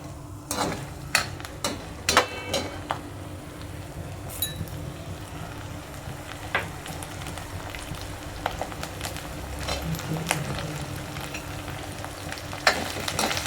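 Soaked peas fry in a pan for bajra khichdi, with a continuous low sizzle and frequent irregular spoon clicks and scrapes against the pan throughout.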